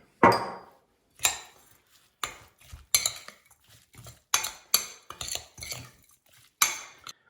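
Dry adjika spice mix with paprika and salt being stirred with a metal spoon in a bowl, heard as a series of sharp, close clinks and scrapes in irregular bursts separated by short silences.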